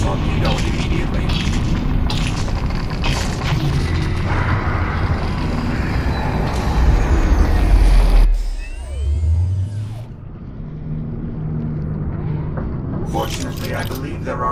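A torpedo launches in the video game Lone Echo 2, a heavy roaring rumble building beneath dense sci-fi machinery noise and voices, then a deep booming surge and descending whoosh before the din settles back.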